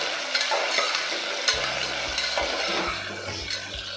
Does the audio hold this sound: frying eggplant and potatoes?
yes